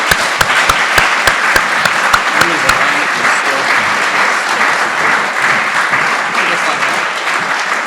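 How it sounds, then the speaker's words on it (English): Audience applause at a panel discussion on the priesthood crisis, opening with a few sharp claps and swelling into steady, dense clapping from a large room that carries on for the full stretch. "I think we can give a little round of applause now"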